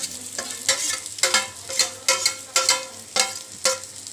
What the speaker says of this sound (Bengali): নুন, হলুদ দিয়ে মাখা চলে যাচ্ছে কড়াইতে।